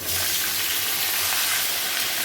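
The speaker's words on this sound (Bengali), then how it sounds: "আমি আলু আর ফুলকপিটা এই তেলের মধ্যেই ভেজে নেব" Potato and cauliflower pieces fry in hot oil, a loud, dense, continuous sizzle close up with no pauses.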